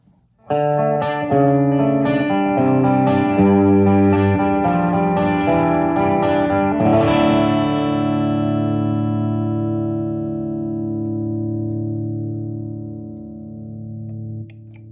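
Electric guitar through a Nobles ODR-1 Plus overdrive pedal plays a few notes, then lets a thick, slightly gritty chord ring out and slowly decay, loud and up close with no talking.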